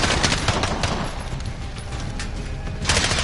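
Dense machine gun fire from the video game Modern Warfare, sustained bursts of rapid shots filling the clip with continuous, loud crackling.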